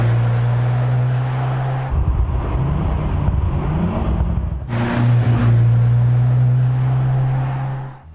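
A Mercedes-AMG C63 with a turbocharged four-cylinder engine holds a steady low drone, climbs into wavering, rising revs in the middle, then settles back to a constant hum. No one speaks.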